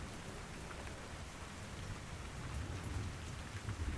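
Steady rainstorm pattering on surfaces, with low rumbles of thunder rolling underneath, continuous and enveloping throughout with no voices.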